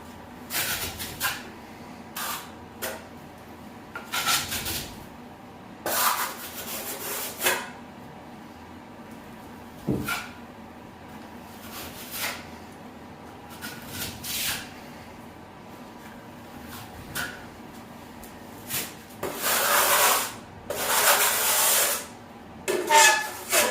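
A trowel smooths drywall mud across a wall down near the baseboard line for a skip trowel texture, making intermittent rasping scrapes in short bursts with quiet gaps between strokes.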